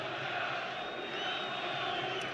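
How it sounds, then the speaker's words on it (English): A small group of Nigerian fans cheers and roars in a football stadium during an Algeria–Nigeria World Cup 2018 qualifier, a steady, dense crowd noise that stays loud and constant throughout. "a little pocket of Nigerian fans are going wild"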